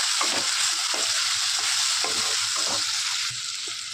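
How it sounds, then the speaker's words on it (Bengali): Chilli chicken fries with soy sauce in a pan, a steady close sizzle running throughout, broken by repeated scraping strokes of a spoon as it is stirred. "এর মধ্যে আবার আমি একটু সয়া সস দিয়ে নেবো, দিয়ে একটু নাড়াচাড়া করে নেবো"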